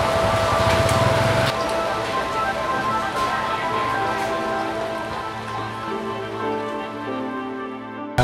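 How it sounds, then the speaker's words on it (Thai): Steady rain pours down over a temple grounds in Pathum Thani, Thailand, a dense, continuous hiss of drops on surfaces lasting throughout, close and loud with no talk. "วันนี้พอดีฝนตกนะครับ"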